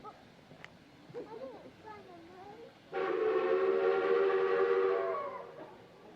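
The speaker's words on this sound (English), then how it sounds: "The train went without Nurse Nancy." A loud steam train whistle sounds steadily for a few seconds after some background chatter, then fades.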